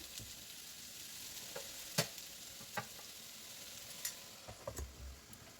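Lentils (dal) frying in a pan over medium-low heat, a faint, steady sizzle broken by a few soft clicks and taps from stirring, quiet and without voices.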